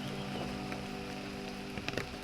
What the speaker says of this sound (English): It's raining pretty hard, so we have to be careful of the camera.